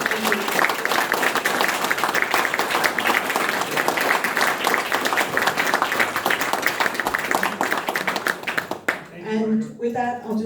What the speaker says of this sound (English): Could you all please join and give a round of applause to the candidates?